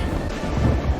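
Deep rumbling thunder rolls through a TV-show storm, a loud sustained low boom lasting about a second with rain and wind noise around it and no talking.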